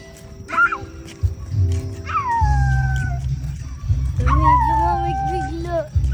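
Dogs yelp and whine with rising, howling cries, fairly close, over a low background rumble and some talking.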